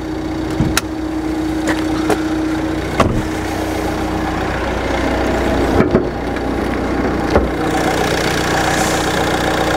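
A used Nissan Qashqai's engine idles with the bonnet open, a steady, even hum heard close up with a few faint clicks and no voices.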